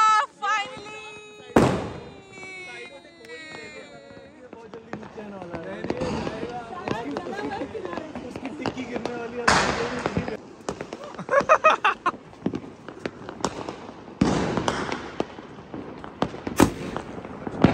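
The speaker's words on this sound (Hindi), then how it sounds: "फाइनली पटाखे हो गए खत्म, डोले उड़ा दिए हमने सारे।" Diwali firecrackers go off in a series of loud, sharp bangs and crackles with whistling tones, some near and some farther off, while people talk and call out between the blasts.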